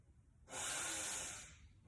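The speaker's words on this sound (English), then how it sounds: "when I draw my breath in through the nose in a power breath" A strong power breath drawn in sharply through the nose, one loud continuous hissing inhale lasting about a second, close and alone in a quiet room.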